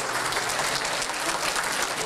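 A meeting audience breaks into applause, a brief, steady patter of many hands clapping at moderate distance, with no clear laughter standing out.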